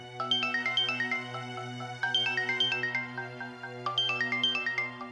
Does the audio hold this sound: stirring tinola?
no